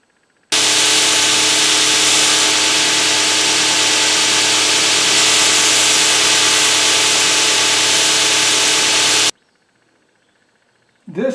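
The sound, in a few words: belt sander sanding a slab of chestnut wood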